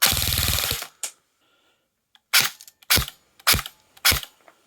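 An airsoft gun with a new 7.4 motor fires in quick snappy bursts, four or five sharp cracks spaced about half a second apart after a dense buzzing run at the start, close and loud with no talking.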